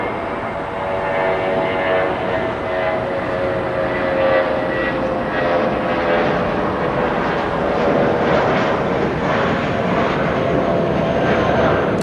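A passenger airplane landing at Los Angeles produces a steady, loud jet roar with a whining engine tone that holds throughout without a break.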